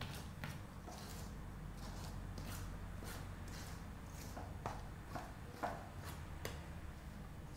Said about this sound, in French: On va mélanger à la cuillère d'abord.